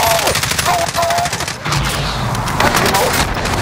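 Rapid automatic gunfire in Call of Duty: Warzone, loud dense bursts of shots with a brief lull midway before firing resumes, with a voice briefly heard beneath the shooting.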